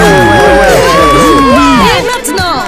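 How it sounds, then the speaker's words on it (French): An audience at a stage performance cheers and shouts loudly, with excited, high-pitched voices that rise and fall together throughout. "Merci pour ces applaudissements incroyables."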